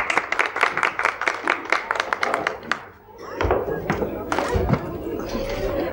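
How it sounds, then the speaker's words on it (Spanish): Thin, scattered applause from a theatre audience, a brisk run of claps that fades and gives way to thuds and movement, with voices speaking over it. "Ella oyó esos pobres aplausos."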